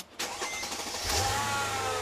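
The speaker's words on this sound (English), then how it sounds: "Then start up the car and make sure they're spinning right." A car engine cranks and catches, then settles into a steady idle after a serpentine fan belt has been replaced; close and moderately loud, no talking.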